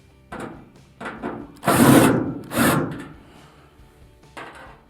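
A screwdriver drives screws into the panel of an Amana dryer during drive motor repair, with several short whirring bursts, two louder longer ones, and faint handling clicks between them, no talk.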